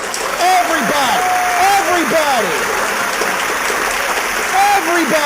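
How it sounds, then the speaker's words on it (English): A theater audience at a community awards night applauds, a dense wash of clapping heard throughout under a voice that carries loudly over the crowd. "How about applauding? Can I see some applause right now?"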